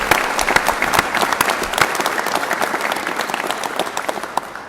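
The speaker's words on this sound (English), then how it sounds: "Let's give our leaders a round of applause." An audience at a Georgia governor's announcement of a veterans hiring program breaks into sustained applause, dense, close clapping that carries on evenly for several seconds.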